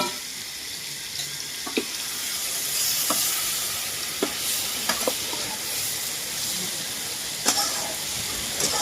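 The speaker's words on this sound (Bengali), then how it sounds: "ম্যারিনেট করে রাখা পনিরটা ভেজে দেবো।" Marinated paneer sizzles in a little oil, making a steady bright hiss with a handful of sharp pops and crackles scattered throughout. There is no talking.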